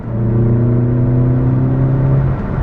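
A Nissan Sentra engine fitted with a Nissan 350Z exhaust drones steadily and loud with a deep harmonic hum and intake whoosh, holding a constant pitch throughout, no voices.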